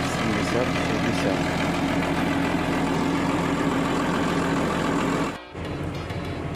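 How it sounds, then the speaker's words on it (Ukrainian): A New Holland T7060 tractor pulling a Bednar Swifterdisc 8000F disc harrow in a field gives a steady, loud engine drone that holds evenly, then briefly drops and returns near the end. "І трактором працює Ніколон Т-7060."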